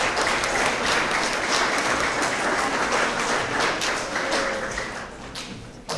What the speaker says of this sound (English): Another round of applause for our 3rd and 4th grade Honesty Award winners